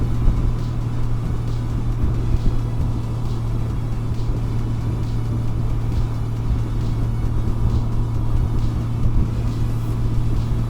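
Honda Goldwing Tour DCT motorcycle, a 2018 model, cruising at 75 with a steady, smooth drone and a constant low hum, wind rush running evenly throughout with no voices.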